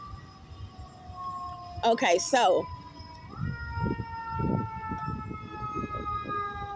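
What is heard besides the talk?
ambulance siren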